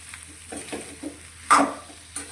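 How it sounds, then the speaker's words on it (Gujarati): A spoon stirs and scrapes through a dry spiced potato curry with fresh coriander in a pan: a few soft scraping strokes with faint sizzle, one louder scrape midway, close by and without voices. "લીલી કોથમીર લીધી છે તે અંદર એડ કરીશું અને બધી જ વસ્તુને સારી રીતે મિક્સ કરી લઈશું"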